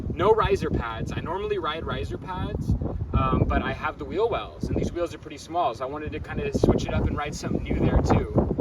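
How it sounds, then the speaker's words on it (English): Gusty wind buffets the microphone outdoors during a skateboard session, a rough low rumble running steadily under continuous close talking. "it is a little windy right now"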